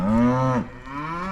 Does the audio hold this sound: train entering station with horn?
no